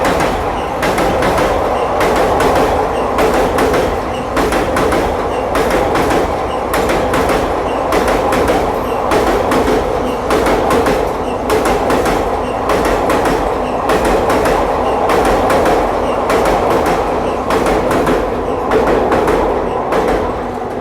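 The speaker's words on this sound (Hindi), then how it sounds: "यहाँ कोई ट्रेन आ रही है जो हमें ओवरटेक कर रही है" A train rolls past the halted New Delhi–Bhubaneswar Duronto Express on the neighbouring track. The rumble stays loud and unbroken throughout, with a steady clickety-clack of wheels over rail joints close by.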